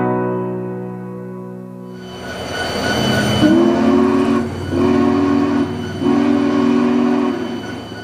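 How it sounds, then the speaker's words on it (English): Union Pacific Big Boy 4014 steam locomotive pulls out of the Cheyenne shop after overhaul, a low rumble building under three long, loud, close blasts of its deep chime whistle. "Big Boy 4014 is leaving the shop and will soon take a short test train out on the main line"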